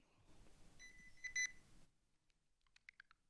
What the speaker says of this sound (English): we created a beeper to place inside of the ball that will start beeping once the ball has stopped rolling